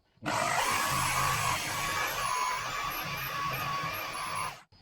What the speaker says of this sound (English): Oh, by the way, I've got this drill now.